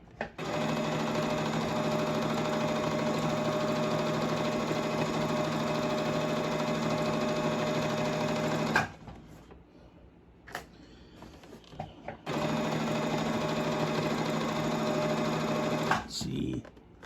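A sewing machine stitches a crash bag in a steady, loud mechanical whir, running continuously for about nine seconds, pausing briefly amid quiet handling noises, then starting again for a few more seconds.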